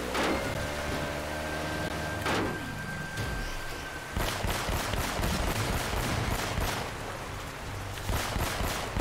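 Sharp gunshots crack at intervals in Uncharted: Drake's Fortune, single reports and short volleys over a steady rushing water current, with game music tones faintly in the background.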